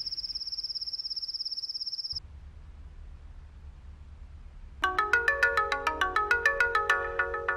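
A mobile phone rings with an incoming call: first a steady high electronic trill, then after a pause a bright repeating melodic ringtone pattern, loud and close with no one talking.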